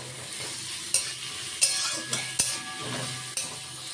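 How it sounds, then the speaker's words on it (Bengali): Sliced onions fry in a pan as beresta for paneer pulao, a continuous close sizzle broken by several sharp clinks and scrapes of a spoon stirring against the metal. "এবার বেরেস্তাগুলোকে সুন্দরভাবে ভেজে নেব"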